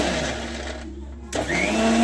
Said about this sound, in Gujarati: હવે હું બનાવું મિક્સરમાં રસ.